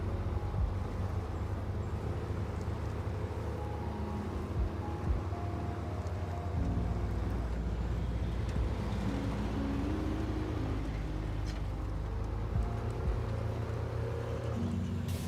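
A truck engine idles and runs in the off-road driving game SnowRunner, set in British Columbia, producing a steady low mechanical hum that shifts in pitch around midway and carries on alone with no talking.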